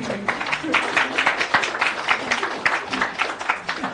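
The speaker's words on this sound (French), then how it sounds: "On applaudit pour lui." A studio audience applauds a speaker on a Congolese television interview programme, steady scattered clapping that holds for several seconds without cheering.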